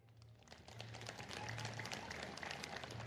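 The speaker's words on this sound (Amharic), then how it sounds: "ክርስቶስን የበላችሁ ክርስቶስን የጠጣችሁ እስቲ የቆረባችሁ አጨብጭቡ።" Congregation applauding during an Ethiopian Orthodox sermon, a dense, steady wash of many hands clapping together, fairly even in loudness throughout with no voices over it.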